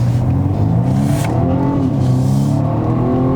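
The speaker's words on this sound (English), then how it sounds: "I really want to accelerate out of corners" BMW M135i F40, the all-new 1-Series hot hatch, accelerating out of a corner on a countryside road: steady engine drone rising through the revs, heard from inside the cabin with a constant low rumble.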